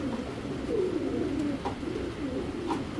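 Racing pigeons in a cage coo in soft, low, repeated rolling calls, close and steady against a murmur of background noise.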